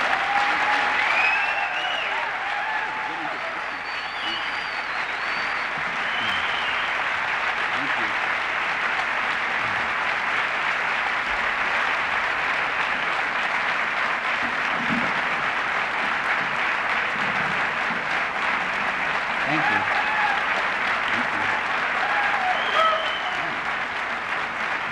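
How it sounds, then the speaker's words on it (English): A large audience applauds steadily and densely for a long stretch before a talk at a lecture in Berkeley, California, with the clapping holding at an even, full level throughout. "Sometimes it gets embarrassing when the applause are longer before the talk than after."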